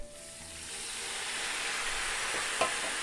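White wine hits a pan on full heat, a steady rising sizzle and hiss that holds throughout, with a single light clink of a utensil near the end.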